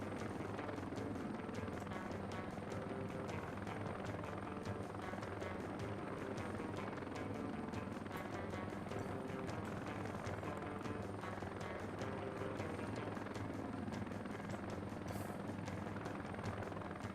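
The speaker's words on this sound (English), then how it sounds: "He's got a supply helicopter, a cargo chopper." Heavy twin-rotor Chinook cargo supply helicopter in a military video game, its steady thudding rotor drone loud and continuous throughout.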